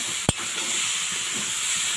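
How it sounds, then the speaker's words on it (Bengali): A bay leaf and a dried red chilli fry in oil in a heavy iron wok while the masala is stirred, producing an even close hiss broken by one sharp click near the start. "যেহেতু এটা কষাচ্ছি, কষানোর সাথে সাথে ওগুলো ভাজা হয়ে যাবে।"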